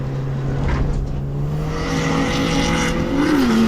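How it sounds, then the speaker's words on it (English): Race cars lap Pukekohe circuit, including an Audi S3 hatchback, with a steady engine drone that rises in pitch toward the end, heard from inside a car. "There's my Pro Street arch rival Chris Sharp in the rapid Audi S3."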